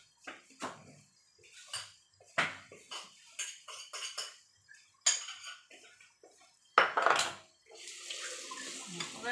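Fish is rinsed in a pot, with irregular clanks and knocks of metal cookware, splashing water and handling noises, close and moderately loud.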